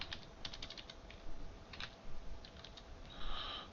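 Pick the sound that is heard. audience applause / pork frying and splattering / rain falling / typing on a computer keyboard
typing on a computer keyboard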